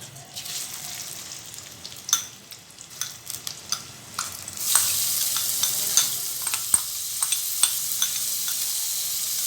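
Chopped onions hitting hot oil for a Pakistani black chickpea curry, a quiet sizzle that swells into a steady loud frying hiss halfway through, dotted with sharp stirring clicks.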